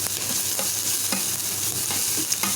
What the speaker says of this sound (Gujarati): હવે થોડું 1 ચમચી જેટલું તેલ નાખી અને આ મસાલા ખાસ ગેસે આપણે સાતળી લઈએ.